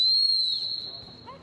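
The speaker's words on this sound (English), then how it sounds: "ignore the whistle" Sharp, high whistle blast at the Crufts 2013 dog activities display, loud at first and fading over about a second, with faint crowd murmur below.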